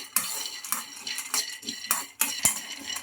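Peanuts scrape and rattle against a metal kadai as they are stirred and fried, with repeated clattering strokes of a spatula and a hard knock near the end, close and without talk.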